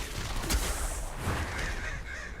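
Crows cawing from the Murder of Crows ability in World of Warcraft: Battle for Azeroth, a noisy, dense game mix with harsh caws surging twice over steady combat and ambient sound, no voices.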